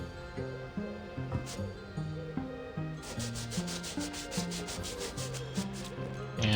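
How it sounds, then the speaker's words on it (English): Polishing with a polisher during metalwork restoration in a game set in Leonardo's workshop, a continuous rubbing, sanding-like scrape over a looping melodic background music, with a brighter swishing burst of strokes in the second half. "And bring out the polisher."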